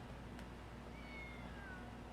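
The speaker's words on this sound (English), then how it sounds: "I heard the kitten. We all heard the kitten" A kitten in the video game Lost Judgment gives a faint, thin meow with a rising then falling pitch, heard once over a low, steady game background hum and no talking.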